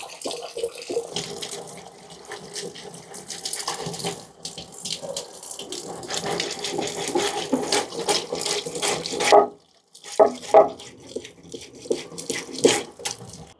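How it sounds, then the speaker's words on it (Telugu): Sea fish are washed and scrubbed under running tap water, a continuous splashing rush with irregular sloshes and scraping, broken by a brief pause before the water flow resumes. "శుభ్రంగా ఇలా కడిగేసానంటే ఇది రుద్దేశాను గట్టిగా బండకేసి"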